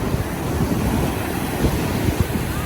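Ocean waves surge and wash in at Mypadu beach, a loud, broad rushing roar with small bursts of churning water, heard close with some wind buffeting the microphone.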